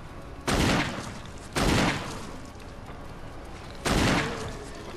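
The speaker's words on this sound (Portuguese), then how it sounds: "Deu três tiros, o cara não caiu." Three loud gunshot blasts in the video game Resident Evil, the first two about a second apart and the last after a longer pause, each trailing into a reverberant decay.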